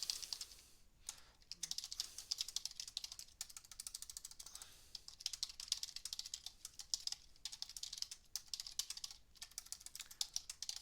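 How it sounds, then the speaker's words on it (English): Steady typing on a computer keyboard while entering text in the vi editor: rapid, fairly close key clicks in bursts with brief pauses, no talking. "I can just type something like this, and when I type"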